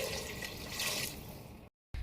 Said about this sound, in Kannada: ನೆಕ್ಸ್ಟ್ ನೀರು ಹಾಕೋ ಟೈಮ್ ನೀರು ಹಾಕ್ತಾಯಿದ್ದೀನಿ